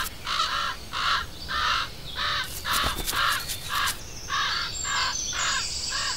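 Two hungry common raven fledglings about six weeks old caw repeatedly for food, around ten harsh calls in a regular rhythm, close and loud over a faint background hiss.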